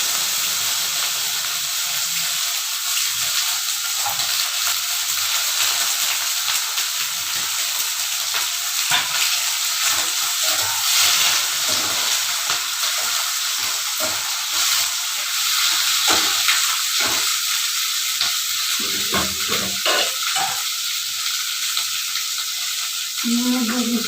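Tomato, capsicum and coriander leaves fry in a pan for a bean-mash dish, giving a loud, steady sizzle with hissing steam and occasional stirring scrapes throughout, no talk.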